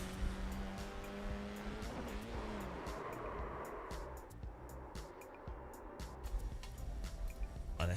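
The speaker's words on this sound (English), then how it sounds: "Let's just try the GT3 car." A GT3 race car in a racing video game, engine revving and shifting with rising and falling tones, followed by screeching tyre squeal through a corner, fairly loud and continuous.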